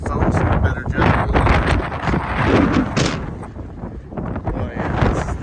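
Strong gusty wind at the storm's gust front in Columbia, Missouri, at night buffets the microphone with loud, rolling roars that swell and ease over several seconds, with an occasional voice beneath.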